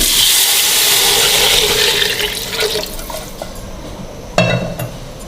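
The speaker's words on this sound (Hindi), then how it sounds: "फिर हम इसके अंदर बिस्मिल्लाहिर्रहमानिर्रहीम खुला पानी डाल देंगे" Water pours from a jug into a cooking pot of fried mutton for yakhni soup, a loud continuous splashing rush that gradually thins and ends with a sharp clink, no talking.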